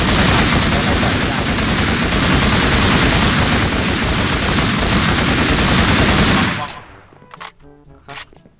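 Sustained, loud automatic gunfire while shooting zombies in the Minecraft MineZ survival mode, a dense barrage that cuts off abruptly near the end, leaving a few sparse clicks and thuds.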